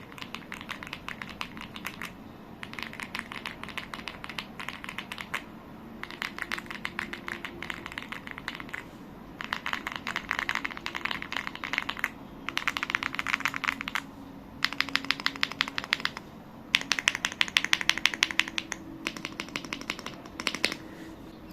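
Fast bursts of typing on an AULA F75 wireless 75% gasket-mounted mechanical keyboard, crisp close clacks in runs of a few seconds separated by brief pauses, alone without talk.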